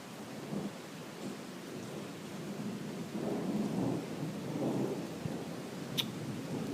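A late-night thunderstorm in Riga: rain hisses steadily while low thunder rumbles roll in and out, swelling twice in the middle, and a single sharp crack or click stands out near the end.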